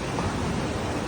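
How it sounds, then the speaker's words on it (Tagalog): Strong waves breaking on Boracay beach, a loud continuous wash of surf with steady rushing noise throughout. "Malakas ang alon."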